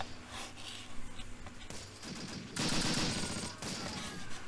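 Mortar blasts and gunfire in the World War II strategy game Close Combat during a foggy night assault with Panther tanks: bursts of rattling fire and dull explosions, fairly faint and distant, swelling louder partway through.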